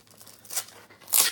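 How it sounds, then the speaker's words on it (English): Packaging of a Noble Collection pendant box is ripped open by hand: two quick, close tearing rips, the second sharper and louder, with faint crinkling in between. "Right, I'm just going to have to rip it."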